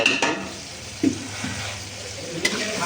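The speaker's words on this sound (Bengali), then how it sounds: "পেঁয়াজ ফ্রাই চলছে এখন" Onions frying in a pan for goat curry, a low sizzle punctuated by a few sharp clinks and scrapes of a utensil stirring against the metal, close and intermittent.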